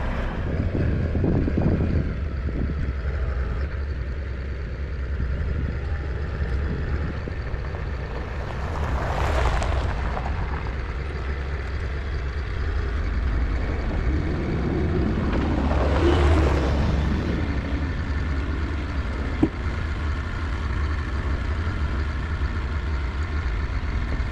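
A vehicle engine, just restarted after stalling, rumbles low and steadily throughout under wind noise outdoors, with a couple of swelling surges as it revs before settling back to idle.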